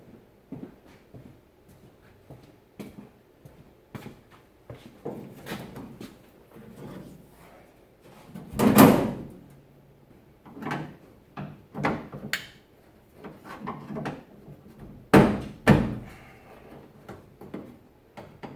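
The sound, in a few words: door being opened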